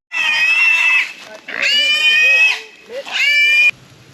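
A hungry pig in Belize squeals loudly in three long, shrill bursts with brief pauses between them, close by.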